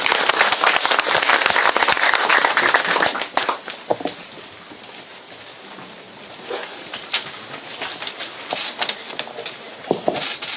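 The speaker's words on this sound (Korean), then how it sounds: "큰 박수로 맞아주시기 바랍니다." Big crowd applause at a Korean policy forum welcoming the next speaker, loud and dense at first, then thinning into scattered claps and sharp bursts.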